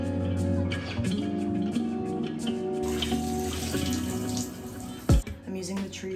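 Shower water running and splashing in a bathroom, a steady hiss broken by brief splatters, with a low musical background underneath.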